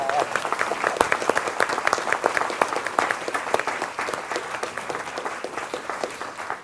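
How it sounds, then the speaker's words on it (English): A church congregation claps in a steady, dense round of applause at a celebration morning service, many hands close together and lively throughout, with a faint voice underneath. "I think we should give her a round of applause, don't you?"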